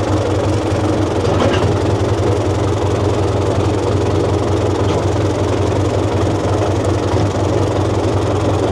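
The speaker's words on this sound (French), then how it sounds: "J'ai laissé le tracteur en plein milieu pour qu'il puisse charger pendant que je suis pas là" A tractor engine idles steadily on a farm in Morocco, a loud, close, continuous low rumble with an even mechanical throb throughout and no voices.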